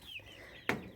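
Backyard chickens and a rooster cluck softly in a garden coop, a faint chirping call trailing off before one short, sharper squawk close by.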